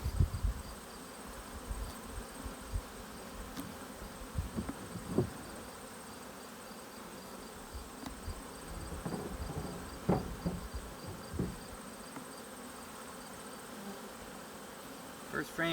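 Bees buzz steadily around frames being pulled from a deep hive box during a queen split, a continuous drone close by with occasional soft knocks and handling sounds throughout.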